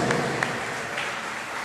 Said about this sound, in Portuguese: Dê uma salva de palmas para esse Jesus, para o nosso Deus